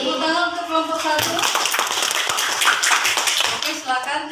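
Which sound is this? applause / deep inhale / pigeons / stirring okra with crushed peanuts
applause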